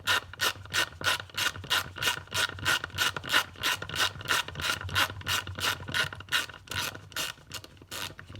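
A hand tap cuts threads for a Heli-Coil insert, giving a steady series of about twenty evenly spaced ratcheting clicks and scraping rasps, close and clear with no talking.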